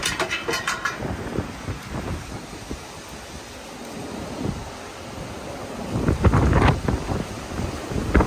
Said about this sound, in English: Some of these wind gusts had to have been like 75, maybe 80 miles per hour.